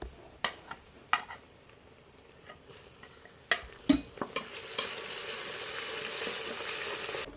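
Garlic ginger paste sizzles on browned onions in a pan, with a steady frying hiss. Several sharp clinks of a spoon against the pot stand out over the sizzle, which grows louder toward the end.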